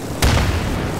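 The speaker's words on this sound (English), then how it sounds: "Strike frag!" A frag grenade blows up in the video game Insurgency: one sudden deep boom with a heavy low rumble that fades out over the following second.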